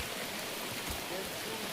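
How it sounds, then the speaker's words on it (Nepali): Rain pours steadily at an outdoor picnic party, making a dense, even hiss of drops hitting surfaces with no letup and no clear voices over it. "धन्दै धन्दै पानी पर्यो"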